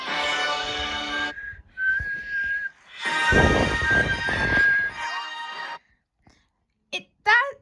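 A loud, steady train-style whistle blows in several long blasts separated by pauses, ending with short chirping tones.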